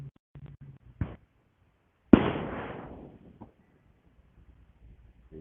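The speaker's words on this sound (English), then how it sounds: "bugged out with these fireworks, celebrating this Independence Day" A single firework bursts loudly on Independence Day, a sharp bang followed by a long crackling, hissing decay over about a second, preceded by a few smaller pops and faint thumps in otherwise quiet night air.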